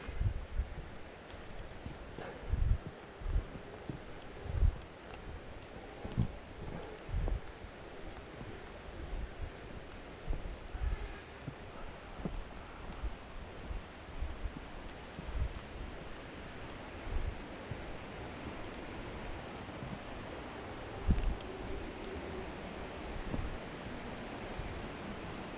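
A river flows beneath a trail bridge on the Megalomyrmex trail, a steady broadband rush of water with soft wind buffeting and occasional low thumps, fairly faint and continuous with no talking.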